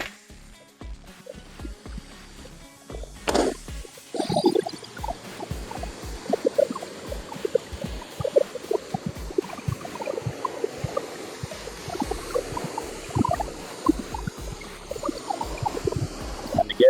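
A pressure washer at about 1400 psi, its tip flipped upward, rinses bugs off a car from the bottom up, giving a steady close spray of water with uneven splashing bursts that starts a few seconds in and runs to the end.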